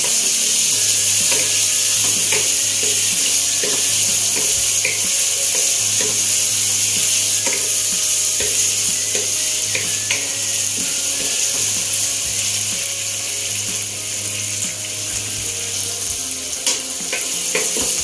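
Already-cooked pork dropped into a pan with bitter gourd, sizzling steadily and loudly with faint scraping and stirring clicks throughout, no talking.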